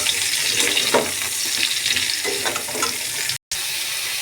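Eggplant and potato pieces fry steadily in hot oil with ginger, garlic, onion and a little salt, giving a close, continuous sizzling hiss with no voices.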